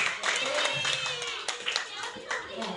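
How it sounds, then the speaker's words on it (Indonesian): A class of children clapping for a classmate, several hands beating unevenly and close by for a few seconds, with brief children's voices mixed in over the claps. "Tepuk tangan buat Kaila."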